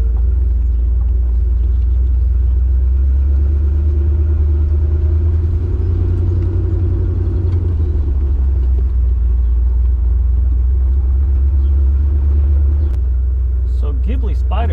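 Maserati Ghibli Spyder 4.9 SS with power steering, driving along: a loud, steady low engine rumble inside the cabin, continuous throughout.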